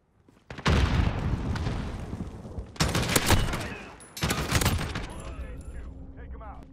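Bursts of gunfire from a weapon in Call of Duty: Modern Warfare, loud and close, in three dense volleys with short gaps between them, the last fading into a quieter tail.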